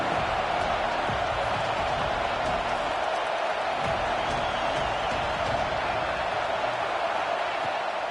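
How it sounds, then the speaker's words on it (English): Big football crowd at Happy Valley during a Michigan versus Penn game, roaring on third down: a loud, continuous, distant wash of stadium noise that holds steady for several seconds. "Here comes the noise from this big crowd in Happy Valley on third down."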